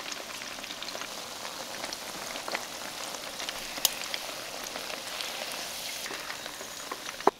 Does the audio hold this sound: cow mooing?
no